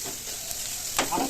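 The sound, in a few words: onion roasting on a tawa (griddle)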